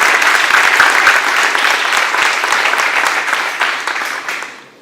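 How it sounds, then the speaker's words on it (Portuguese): A church congregation applauds loudly and continuously, a dense wash of many hands that holds strong before tapering off at the end. "Você pode aplaudir ao Senhor, querido, pela palavra dele. Se você puder, faça o mais forte que você conseguir."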